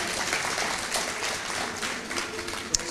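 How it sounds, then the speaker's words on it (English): A revival-meeting congregation claps together in a steady, fairly loud spread of many hands, sustained for a few seconds, with one sharper clap near the end and faint voices mixed in. "Give Him a clap."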